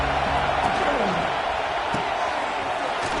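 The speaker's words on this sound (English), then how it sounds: "This crowd ready to make its presence known." A stadium crowd at a football game roars loudly and continuously throughout, a dense, steady wall of cheering with voices mixed in.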